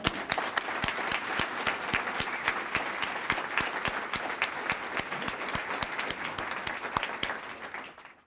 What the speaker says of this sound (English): I'd like us to give them a round of applause now